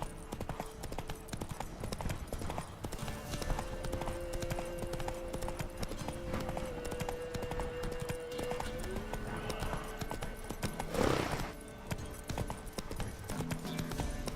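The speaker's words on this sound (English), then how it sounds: "Whoa there, Roach." Horse hooves gallop in The Witcher 3, a fast steady clip-clop of hoofbeats running throughout at close range over a game soundscape with a sustained tone, plus a brief whoosh near the end.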